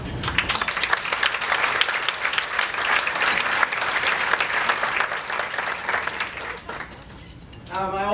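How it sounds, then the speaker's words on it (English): Sustained applause from an audience at a community partnership celebration honoring a resident advisory council, dense steady clapping lasting several seconds before fading out. "I want to give, first and foremost, an applause again to the Resident Advisory Council"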